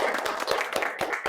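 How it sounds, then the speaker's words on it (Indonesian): A small classroom or lecture group claps briefly for a presenter, a short burst of several close, distinct hand claps. "Tepuk tangan untuk Mario."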